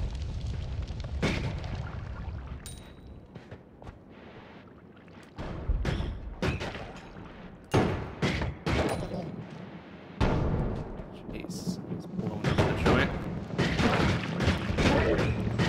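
Bombs exploding in the video game Noita, a long run of loud booms and crackling blasts, some single and sharp, others in rapid clusters, over a constant rumbling game background with no talk.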